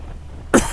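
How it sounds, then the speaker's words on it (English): A single sharp, loud cough inside a motorcycle helmet bursts out on a Can-Am Ryker ride, after a stretch of quiet low rumble, close to the listener. "Coughing inside this helmet."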